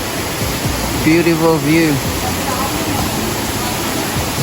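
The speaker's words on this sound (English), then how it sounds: "This is the small waterfall which is on the left hand side." The small Tibumana waterfall in Bali gives a steady, broad roar of falling water that fills the whole scene, with a person speaking briefly over it.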